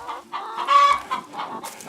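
Hens clucking near their henhouse in early spring, a run of short close clucks and squawks rising and falling in bursts, with no talking.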